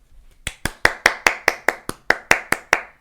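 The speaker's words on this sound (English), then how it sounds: "Insert clap sound here." Eleven sharp, evenly spaced hand claps, close and dry, inserted as a sound effect, each crisp snap standing alone against silence.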